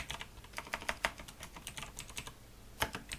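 Typing on a computer keyboard, a quick, uneven run of close, crisp key clicks with short pauses, alone without talk.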